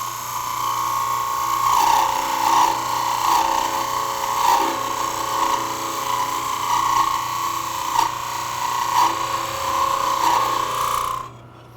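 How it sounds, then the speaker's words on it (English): A wood lathe spins while a parting tool cuts a tenon on a Christmas ornament blank, giving a steady whirring hum with repeated scraping pulses before the sound stops abruptly. "I can use it in conjunction with the parting tool to establish the correct diameter"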